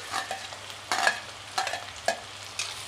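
Green chilies and onions frying together in a pan for a spicy aloo gobhi gravy, giving a steady close sizzle with several sharp spatula scrapes and stirs spaced about half a second apart.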